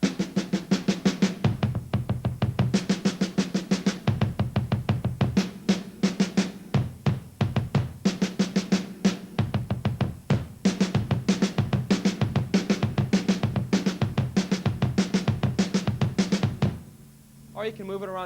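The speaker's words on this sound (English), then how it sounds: "Do a 16th note pattern with your hand and follow it with your foot," Rock drum kit played with rapid sixteenth-note hand strokes on drums, each run answered by bass drum kicks from the foot, a dense, loud, steady percussive stream lasting most of the passage before stopping near the end.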